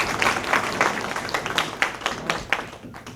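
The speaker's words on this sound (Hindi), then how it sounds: "एक बार जोरदार ताली।" A crowd applauds at an award ceremony honouring Corona warriors, with steady clapping throughout and sharper individual claps standing out near the microphone.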